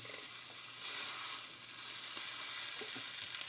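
Food sizzles and crackles in a hot pan, a continuous close hiss with small pops throughout and no voices.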